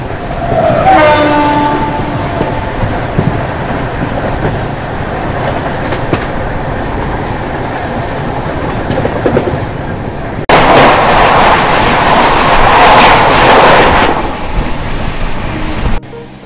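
The August Kranti Rajdhani Express rumbles along, heard from inside a first AC coach as a continuous low roar with faint clatter, a distant horn early on, and a louder, harsher surge near the end.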